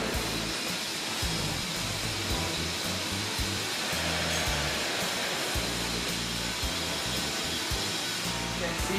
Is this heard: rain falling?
no